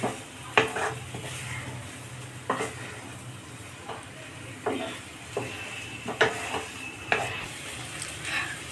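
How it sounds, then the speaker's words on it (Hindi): A spiced potato curry with asafoetida is gently stirred in a pan, a spoon scraping and knocking at an irregular pace over a soft sizzle, close and clear with no talking. "फिर इसे चलाएंगे। आराम से चलाना है ताकि आलू हमारा मैश ना हो"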